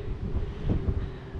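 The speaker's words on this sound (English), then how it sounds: "Can you hear the wind?" Gale-force wind buffets a microphone during a bicycle ride on an exposed stretch after a hill climb, a low, steady rumbling gust with no speech.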